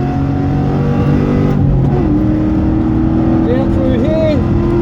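A track-day car at Wakefield Park, Australia, with its engine droning loudly and steadily as it accelerates, the pitch climbing, while a voice talks over it.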